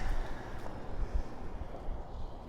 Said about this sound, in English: Windy, kind of rainy, and it's cold.